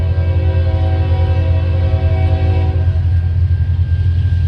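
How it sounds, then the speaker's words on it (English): Eastbound Norfolk Southern/CPKC freight manifest led by a KCS locomotive rolls through a railroad crossing in Illinois or Indiana, with a loud, steady horn blast over continuous rumbling engine and wheel noise that fades slightly near the end. "Next up was an eastbound NS/CPKC manifest with a KCS leader."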